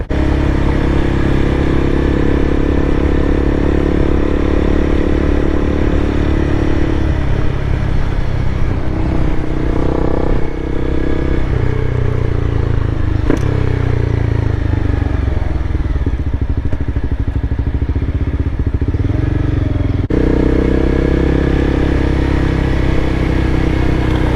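A Honda CBR300R motorcycle rides along the road, its steady engine drone and wind rush continuous and loud throughout, with slight shifts in pitch as the speed changes.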